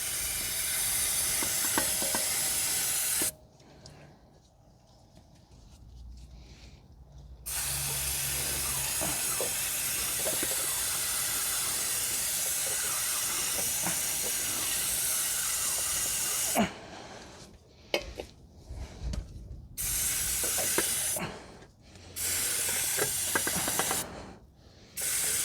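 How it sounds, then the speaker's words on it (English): Brake cleaner hisses from an aerosol can onto the brake rotor of a 2012 Toyota Corolla 1.8. There are several long, loud sprays with short pauses between them, close up, and no talking. "we're going to spray it down with some brake cleaner to clean everything down"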